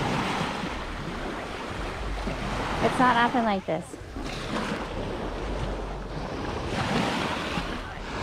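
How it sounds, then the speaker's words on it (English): Calm ocean waves wash onto the beach at Pensacola Bay on a nearly windless day, a soft steady surf wash with gentle swells and brief wind noise, while a person talks briefly midway. "Because there's like no wind and really just very calm waves."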